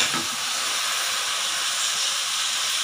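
Vegetables sautéing in hot oil for sambar rice, heard as a continuous loud, even hiss of frying that holds steady from start to finish, with no stirring strokes standing out and no speech.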